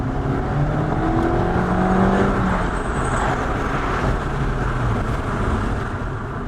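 A 2019 Suzuki Swift with the Booster Jet engine accelerates after a downshift, its engine note rising steadily under a continuous loud whir and road noise, heard from inside the car.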